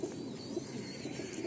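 Pigeon cooing from a home-bred loft bird among several pigeons kept for sale, soft low coos repeating steadily at moderate distance with no talk.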